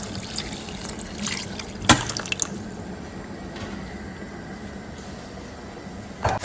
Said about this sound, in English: I'm adding a little bit of water.